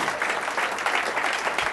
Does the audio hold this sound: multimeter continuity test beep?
no